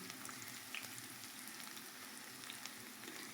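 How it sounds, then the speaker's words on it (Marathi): Chopped onion fries in a pan for chicken sukka with bay leaf, giving a soft, even, continuous sizzle with faint crackles, close by and fairly quiet. "हे चांगलं गोल्डन कलर येईपर्यंत परतून घ्यायचं आहे."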